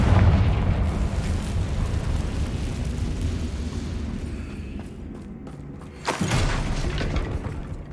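A Confringo blasting spell goes off in Hogwarts Legacy, a rumbling explosion that decays over several seconds, followed by a sharper second burst near the end.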